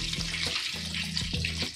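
Fish coated in besan (gram flour), egg and masala frying for a Lahori fish fry: a steady bright sizzle and crackle of hot oil, fairly quiet, with faint tonal clinks underneath.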